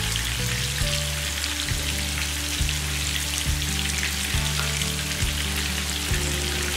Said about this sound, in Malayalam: മീഡിയം ഫ്ലെയിമിൽ വെച്ച് വേണം ഫ്രൈ ചെയ്യാൻ.